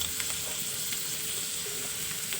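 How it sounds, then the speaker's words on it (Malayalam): Food fries in hot oil with a soft, steady sizzle and occasional stirring clicks, fairly quiet and close, with no voices. "നമ്മളിത് ഇളക്കി ഇളക്കി ഇളക്കി നമ്മളിത് മൊരിച്ച് വാരി വയ്ക്കണം"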